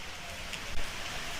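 Steady rain falls continuously, a dense hiss of drops with one slightly louder patter, no voices.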